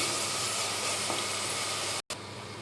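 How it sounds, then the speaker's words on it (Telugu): A cumin and garlic paste fries in a pan for a prawn and country-egg curry, giving a continuous close sizzle with a brief dropout near the end. "ఈ జీలకర్ర వెల్లుల్లిపాయ పేస్ట్ రెండు స్పూన్లు వేసుకోవాలి"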